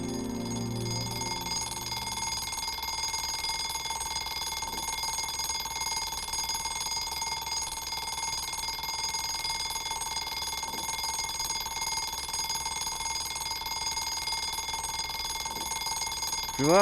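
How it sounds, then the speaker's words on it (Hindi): An alarm clock rings continuously for the whole stretch, a loud, unbroken electronic tone that stays close and steady with no voices over it. "शिवा, अलार्म बंद कर दे यार।"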